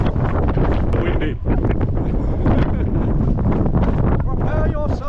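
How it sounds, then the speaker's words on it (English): Strong wind roars and buffets the microphone on an exposed mountain route near Snowdon. The gusts are loud and continuous, and a voice can be heard faintly under the wind. "Prepare for the wind."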